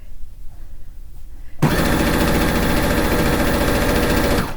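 A sewing machine stitching quilt backing starts up after a quiet moment and runs steadily and loudly up close, a continuous mechanical hum and whir.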